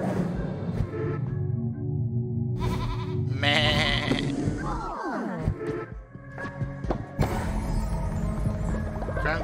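In the video game Cult of the Lamb, cartoonish sheep bleat in several wavering, warbling calls over a busy game soundtrack, with one long sliding bleat standing out in the middle.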